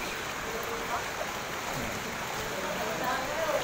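Knee-deep floodwater flows and churns through a street in Las Piñas during heavy, unrelenting rain, a continuous broadband rushing wash with faint voices in the background.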